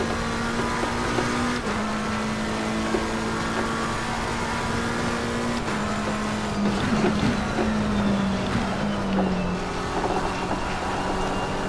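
A race car engine in the Assetto Corsa Competizione racing game, droning steadily at high revs with its pitch shifting through gear changes and corners, loud and continuous with no voices.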